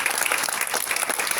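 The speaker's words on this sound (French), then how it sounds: "On peut l'applaudir." Audience applause at a launch event for a community housing lab, a dense, steady wash of clapping hands filling the room for the whole moment, with no voices standing out.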